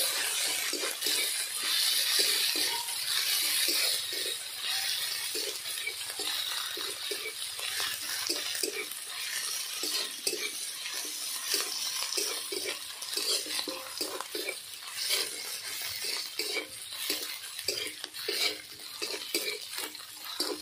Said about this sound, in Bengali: দিয়ে ভালোভাবে মশলাটা কষিয়ে নেব